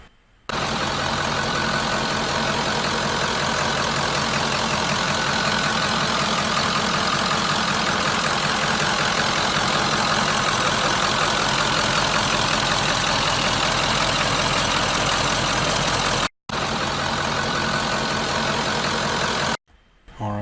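A 7.3 Powerstroke diesel engine idles in a Bronco fitted with a new Spectre air filter, a loud, steady, close rumble that runs continuously with only a couple of brief dropouts near the end.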